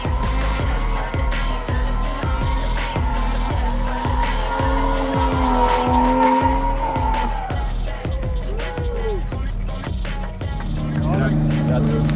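A drifting car screeches its tires in long, wavering squeals over a roaring, revving engine, with a steady low pulsing throughout and people talking at times.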